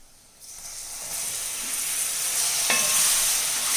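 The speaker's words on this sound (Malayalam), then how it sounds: "നാരങ്ങ ഇട്ട് നല്ലതുപോലെ ഇളക്കി കൊടുക്കാം." Lemon pieces hit hot oil spiced with asafoetida for a homemade Kerala lemon pickle, and a hissing sizzle swells up and holds loud and close, marked by a single utensil clink; no talking.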